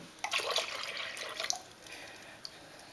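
Milk poured into a saucepan of cornmeal polenta porridge, a brief close liquid splash and trickle followed by faint bubbling and drips.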